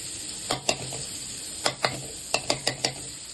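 Palak paneer butter masala cooking in a kadai with butter, a soft continuous sizzle broken by several sharp scraping stirs of a spoon against the pan, close and alone.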